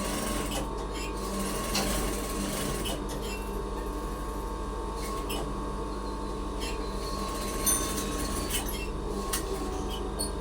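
A sewing machine stitching a blouse runs at a steady, continuous whir with a constant mechanical hum and faint ticking, close and even throughout with no pauses.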